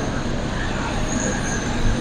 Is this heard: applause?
no